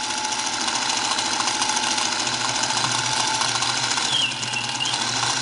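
A Singer 221 Featherweight sewing machine motor, fitted with a new V-belt, runs in a loud, steady mechanical whir with a rapid rhythmic clatter throughout.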